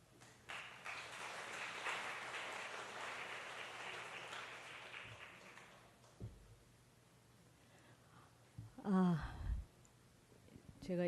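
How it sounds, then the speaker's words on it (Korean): Broad, steady clapping from a church congregation welcoming a missionary speaker fills the first six seconds, then fades into quiet room noise before a brief voice near the end. "우리 선교사님 나오실 때 큰 박수로 환영하겠습니다"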